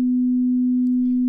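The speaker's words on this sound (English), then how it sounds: "we can go to even a more low frequency sound." A steady low 250 Hz tone from a sound generator holds unbroken and clean for just over a second, with nothing else around it.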